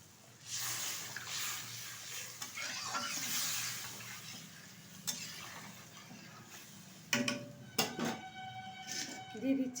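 Water is poured into a pan of potatoes and spices for a katla fish curry, a rushing splash lasting a few seconds, followed by light clinks and clatters of utensils and a faint voice.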